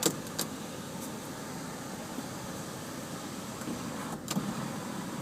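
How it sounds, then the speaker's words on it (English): The power sunroof of a 2011 Volvo C30 T5 R-Design opens with a soft, steady electric motor hum inside the quiet cabin, with a faint click at the start and a light thump as it stops. "And here's the sunroof. Moonroof, whatever you guys want to call it. Opens up."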